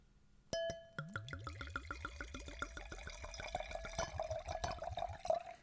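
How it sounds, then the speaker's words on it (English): Red wine glugs from a bottle into a glass, close and quiet: a rapid, rhythmic gurgle that settles into a steadier trickle with faint glassy clinks, and no talking. "Just relax and listen to the sound of the wine pouring."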